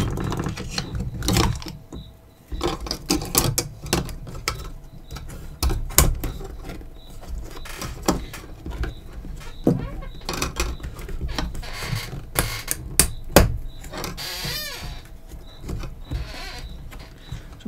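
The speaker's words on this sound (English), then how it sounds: "So I'm going to throw some screws in here and go from the other side." Small screws being driven into a QAV540 long-range quadcopter drone frame, giving irregular clicks, ratcheting ticks and faint whirring bursts close by, with no talking.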